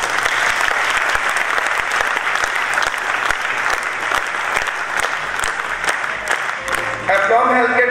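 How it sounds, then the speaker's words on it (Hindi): Loud, sustained audience applause at a company's anniversary celebration, dense clapping from a large crowd continuing steadily, with a voice and music starting near the end. "चलिए एक बार आप लोग अपने लिए जोरदार तालियां बजाएं।"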